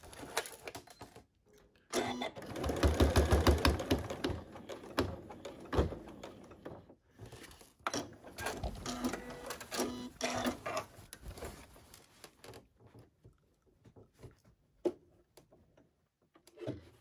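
A sewing machine stitches a box seam on a Cricut Maker dust cover in close, loud, rattling bursts separated by short pauses and a few clicks.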